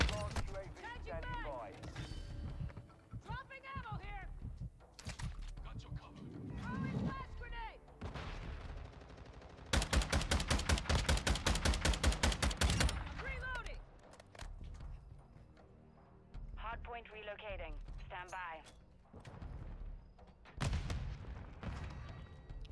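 An LMS light machine gun in Modern Warfare 2 fires a long sustained automatic burst, steady and loud, with shorter bursts and scattered game effects around it while a voice talks between shots.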